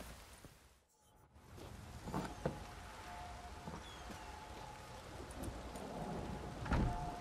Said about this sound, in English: It's raining as well